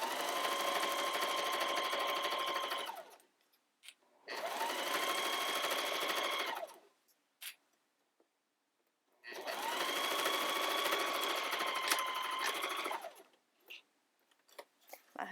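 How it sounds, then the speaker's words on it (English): A sewing machine back-stitching and then running a long seam down a homemade reusable sandwich bag: steady whirring motor runs of several seconds each, separated by short pauses, close and moderately loud, with no voices. "back stitch and then sew all the way down"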